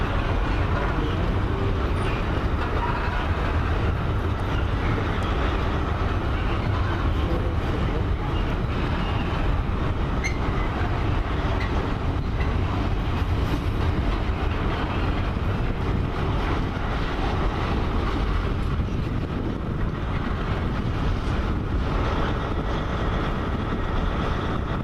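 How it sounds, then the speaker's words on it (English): Class 66 locomotive 66531 hauls a coal train past at Bristol Temple Meads, a loud continuous rumbling roar with heavy wind buffeting the microphone throughout. "Goes 66531, the coal train."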